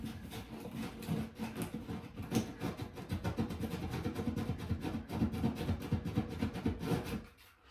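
Cutting notches out of a plastic electrical junction box by hand, with a steady rasping, scraping rhythm of repeated short strokes that runs close and fairly loud throughout.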